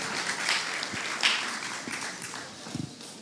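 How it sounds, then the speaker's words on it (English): Audience applause rings out for a certificate recipient at a presentation event, a moderate patter of clapping with a few louder individual claps and light knocks, no speech over it. "Big applause for Margita as well."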